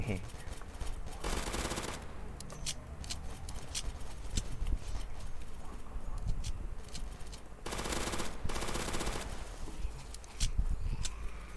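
Rapid automatic gunfire from the video game Zombie Uprising rattles in long dense bursts while the player jumps and shoots, loud and near, with a voice speaking over part of it.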